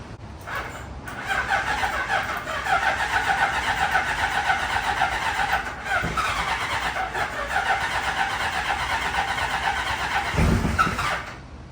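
Kawasaki Z1 900 motorcycle engine from a barn find, fuelled and cranking, holding a steady, loud mechanical churn for about ten seconds with brief dips and a low thump near the end.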